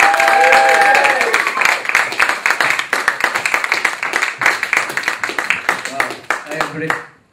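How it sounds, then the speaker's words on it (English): Audience applause at a stand-up comedy show, dense clapping that thins into scattered claps and fades out, with a few shouts mixed in. "can we have a round of applause?"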